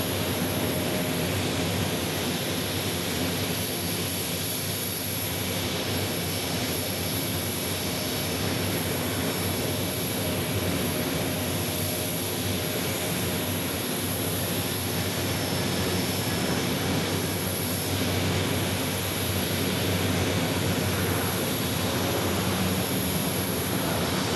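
An Airbus A321neo jet airliner at an airport gives a steady, moderately distant jet engine roar and hiss that holds evenly throughout.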